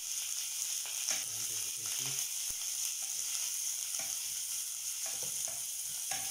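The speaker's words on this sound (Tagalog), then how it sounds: "Lutuin natin yung sibuyas para mas masarap." Onions sizzling in a frying pan as a Filipino dish cooks, a steady close crackle with occasional stirring scrapes and no voices.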